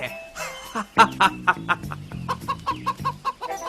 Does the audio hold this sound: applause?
no